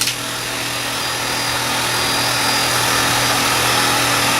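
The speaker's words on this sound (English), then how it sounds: "I'm holding the heat gun a little further away from the plaster." A heat gun blows on the plaster-coated parts of a carved foam board, giving a steady, close, broadband rushing hiss with a constant motor whine and no break.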